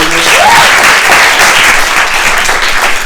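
An indoor audience claps loudly and continuously for Dr. Oye Owolewa, U.S. representative for Washington, D.C., a dense, even wash of applause from a crowd in a large room.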